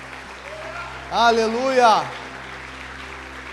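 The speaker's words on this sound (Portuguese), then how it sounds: "Você pode dar uma salva de palmas a Jesus." A church congregation claps in a steady, soft patter while a voice rings out loudly above it in a sung shout.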